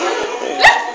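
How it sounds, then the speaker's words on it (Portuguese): A small puppy gives a single short, sharp yip close by, with a faint earlier tap and quiet room background. "Gugu, que cachorro bonitinho"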